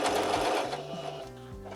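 Sewing machine stitching a fabric face mask, a close mechanical whir with rapid rhythmic needle chatter that changes pitch as it slows and restarts, with no talk.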